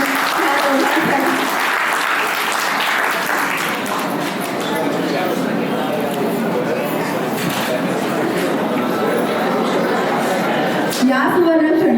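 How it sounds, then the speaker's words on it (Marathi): Guests at a 50th wedding anniversary celebration applaud the couple with loud, dense clapping that carries on steadily for the whole stretch, with voices mixed into the crowd noise. "खरंच एकदा जोरदार टाळ्या वाजवूया आपण ह्या दोघांसाठी"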